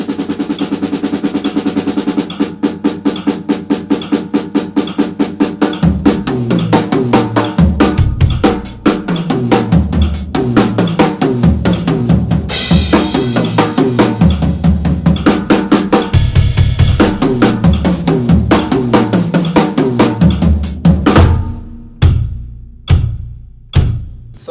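A drum kit plays gospel chops on 32nd-note offbeats, loud and close. Dense rapid strokes run continuously with accented hits and cymbals, then thin out to a few final hits.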